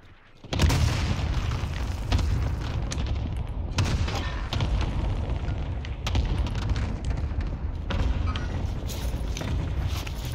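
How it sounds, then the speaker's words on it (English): Cluster strike explosions in Call of Duty on Rebirth Island, a dense, continuous barrage of loud booms and blasts rolling on without pause for about ten seconds. "Cluster strike arriving."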